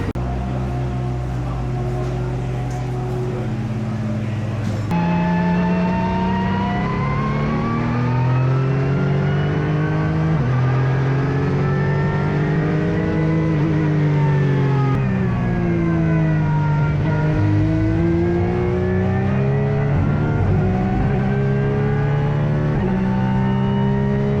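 A race car engine during a test session at the Dubai 24 Hours, loud and close from onboard, holding high revs with long rising and falling pitch sweeps through gear changes, alone without talk.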